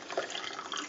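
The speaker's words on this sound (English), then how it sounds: "find your cup that you're using and just pour it in" Freshly brewed Aeropress coffee being poured into a cup, a soft, continuous liquid trickle with a faint splash, quiet and close with no voices.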